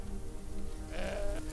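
A goat in the Deponia Doomsday point-and-click adventure game gives a single wavering bleat of about half a second, close and clear over a steady game background.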